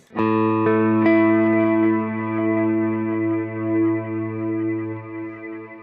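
An electric guitar played through a Kemper Profiler with the gain set to zero gives a clean tone. A few quick picked attacks lead into one ringing chord that sustains and slowly decays, alone and fairly loud.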